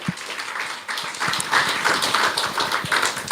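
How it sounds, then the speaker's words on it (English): A congregation at a Kirtan devotional program applauds its Kirtan team, giving a steady, dense wash of clapping with scattered louder hand taps throughout. "let's give our Kirtan team a round of applause as well"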